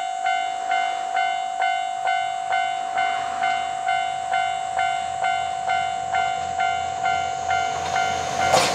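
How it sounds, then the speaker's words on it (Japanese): The yellow Anpanman-liveried JR 2700 series Nanpu limited express passes close by, its steady motor whine ringing over an even, rapid clatter of wheels on rail joints that stays regular and fairly loud throughout. "下り2700系南風号黄色いアンパンマン列車が通過です"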